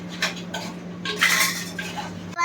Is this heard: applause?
no